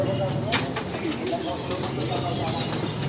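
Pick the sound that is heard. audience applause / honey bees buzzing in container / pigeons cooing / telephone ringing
pigeons cooing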